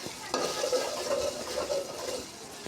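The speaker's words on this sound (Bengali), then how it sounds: "চার পাঁচ মিনিট এভাবে একটু একটু জল দিয়ে আমি কষিয়ে নিচ্ছি যাতে মশলার ঝাঁজ সব চলে যায়" Spice masala being sautéed in a pan with a splash of water for a fish curry, a soft continuous sizzle with light scraping stir strokes, close and fairly quiet, with no talking.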